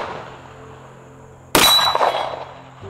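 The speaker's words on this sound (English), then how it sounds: "shoots the steel." One sharp ringing clang sounds as a bullet from a Glock 47 pistol strikes a steel target. It comes after a quiet stretch, its metallic ring fading over about a second, and no one speaks.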